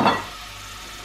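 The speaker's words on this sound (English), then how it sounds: "the oil is heated up now, so I'm going to add the 2 onions" Two onions hit heated oil for a curry, a brief sharp burst of sizzle at the start that quickly settles into a quieter steady hiss.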